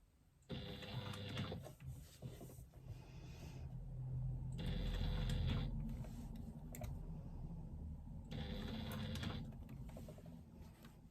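A hand-cranked sewing machine stitching around the top curve of a retro clutch bag, with three separate bursts of rapid, rattling mechanical stitching and quieter handling in between.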